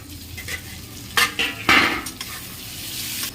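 Potatoes in a pot of fish curry being stirred after sitting covered, a few sharp utensil scrapes and clanks against the pot over a soft background sizzle.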